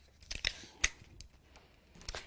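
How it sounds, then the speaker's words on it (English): Close crinkling, tearing and snipping noises come from a handmade wedding card as tape is pulled and pressed onto silver mirror card. Several short bursts are spread across a quiet background. "I'll tape this into place,"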